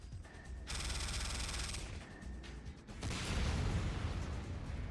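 Heavy gunfire in the video game Command & Conquer: Renegade, sustained bursts of rapid shots and booming impacts that rise louder toward the end, with sparse mechanical clatter.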